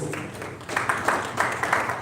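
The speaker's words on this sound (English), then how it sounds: "give Eddy Kenzo another round of applause" An audience applauds Eddy Kenzo at his Uganda tourism ambassador event, with brief, moderately loud clapping that swells slightly toward the end.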